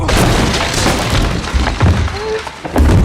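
Glass shatters and breaks amid thuds and crashes of bodies hitting the floor during a staged fight scene in a thriller film. The sound is loud and busy, with sharp smashes and heavy impacts layered over a dense, crashing background.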